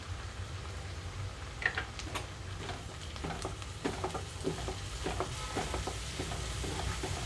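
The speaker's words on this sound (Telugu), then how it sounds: "ఇందులోకి అల్లం వెల్లుల్లి పేస్ట్ వేసుకుంటున్నాను అలాగే పసుపు కూడా" Ginger garlic paste and turmeric frying with browned onions in a pan, giving a steady, close sizzle with light spatula stirs and scattered crackles throughout, no talking.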